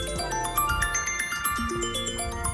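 Music with chiming, bell-like tones plays from the bottom speaker of a black 9.7-inch iPad Pro, bright and steady with a low thumping beat beneath.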